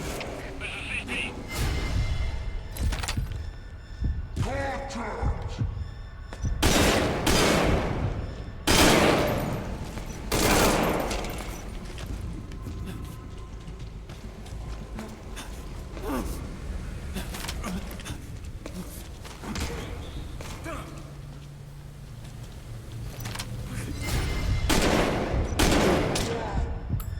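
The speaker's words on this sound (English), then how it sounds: "We're hearing gunfire." Repeated bursts of gunfire in Metal Gear Solid V, sharp loud shots scattered across the clip with brief rapid volleys, mixed with background noise and occasional voices.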